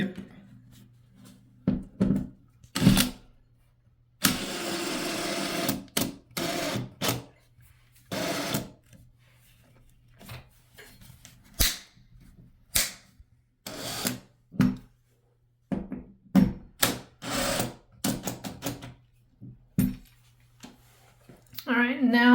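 A power drill drives screws to fasten a towel bar to a wall, whirring in short, close bursts of a second or two, with pauses and a person talking between them.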